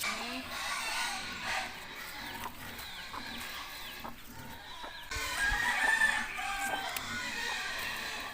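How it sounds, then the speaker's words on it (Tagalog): Rhode Island Red chickens in a backyard pen, with a rooster crowing several times between soft clucks and rustling. The crows sound fairly close but moderate in level, with a louder stretch near the end. "para kay Rudy at kay Roda doon sa dalawa naming Rhode Island chicken"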